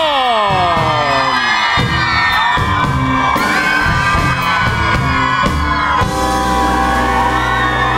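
A crowd in the stands at a music awards show cheers, whoops and shouts continuously, loud and dense throughout with music mixed in.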